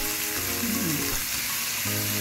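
Onion and spinach fry in a pan for huevos rancheros, a steady close sizzle running throughout with a faint watery crackle.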